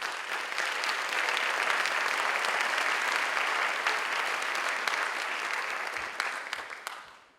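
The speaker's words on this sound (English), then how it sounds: "Let's give them a round of applause." Sustained audience applause at an awards gala for the presenting sponsors, a full room of steady clapping for about seven seconds that tapers off at the end.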